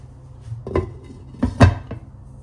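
A metal lid set onto a cooking pot on a stove while gourd greens cook with hilsa fish: a few close clinks and clatters, the loudest double knock near the end, over a quiet background.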